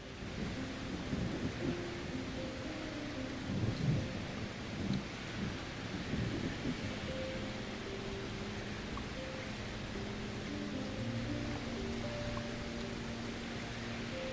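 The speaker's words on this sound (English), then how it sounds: "Can't see with this rain." Rain and thunder in the video game Solarpunk: a steady, dense hiss of heavy rain with low thunder rumbling underneath, continuous and enveloping with no voices.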